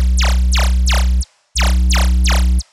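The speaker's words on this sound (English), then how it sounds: "it's just a sine wave and a triangle wave with some distortion and some light compression" Distorted, lightly compressed synth sub bass built from a sine and a triangle wave, layered over a laser synth for jump up drum and bass; two loud, sustained phrases with sweeping laser zaps on top and a short gap between.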